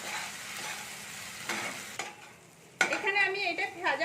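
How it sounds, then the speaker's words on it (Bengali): Two spoonfuls of ginger-garlic paste sizzle in a pan while a spatula stirs; a gentle hiss is followed by a sharp scrape, then a louder, brighter crackling fry close by. "এইটার সাথে আমি একটু নেড়ে ভেজে নিচ্ছি"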